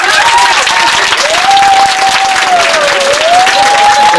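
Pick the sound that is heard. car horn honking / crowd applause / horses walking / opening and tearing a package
crowd applause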